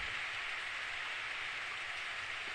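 Steady rain falling in the Steins;Gate visual novel, an even broadband hiss of downpour at moderate level with no pauses and no voices.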